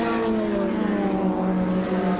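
Old Lotus racing cars and a Triumph TR7 race wheel to wheel, a steady loud engine drone with layered harmonic whine holding high revs throughout, no voices over it.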